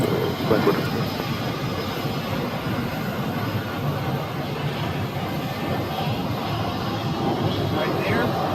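Jet airliner landing on runway 8 at Phoenix airport, a loud continuous roar of engines heard from nearby, steady throughout with a faint higher whine above it.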